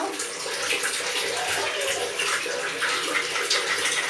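Water runs steadily during a bath, a continuous close splashing gush from a tap filling the tub, loud and unbroken.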